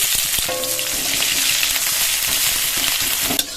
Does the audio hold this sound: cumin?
yes